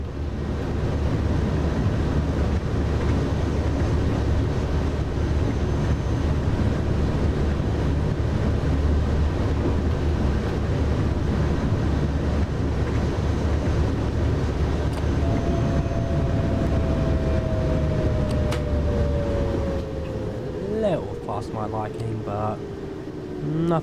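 An express train on the Hauptstrecke Rhein-Ruhr line in Train Sim World pulls away from a station with a loud, continuous rumble of running gear, a steadily rising tone joining partway through.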